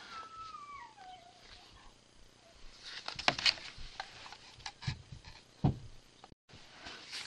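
A dog howls outdoors with a wavering, falling wail early on, followed by faint whimpers, scattered knocks and patter nearby, with no talk.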